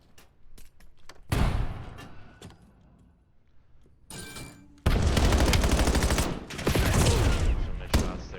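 Gunfire in a competitive video game match: sharp isolated shots early on, then dense sustained bursts of rapid fire, loud and close, with faint talk between.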